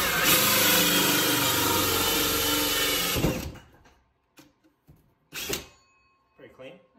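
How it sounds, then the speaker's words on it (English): A drill with a toothed bit runs in reverse against wood during a bathroom vanity install in an off-grid cabin, giving a loud, steady grinding roar for about three seconds, then stopping, followed by short scrapes and handling noises. "I'm going to go ahead and put it in reverse just so that the teeth are going backwards and hopefully it won't make a big mess"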